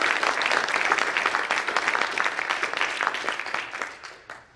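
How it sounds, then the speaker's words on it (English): An audience at an Eagle Scout ceremony for a scout troop claps in a full, steady round of applause that fades out toward the end. "so he needs a round of applause just for that."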